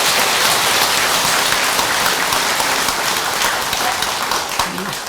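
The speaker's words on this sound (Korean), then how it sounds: "박수 쳐주시기 바랍니다" An audience applauds at a Buddhist dharma talk in a temple hall, with dense, sustained clapping from many hands that tapers off slightly at the end.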